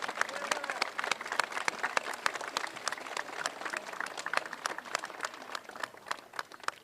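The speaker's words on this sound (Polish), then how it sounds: "Raz jeszcze poproszę o ogromne brawa dla naszych bohaterów." Sustained applause from a crowd, a dense patter of clapping hands continuing steadily at moderate distance.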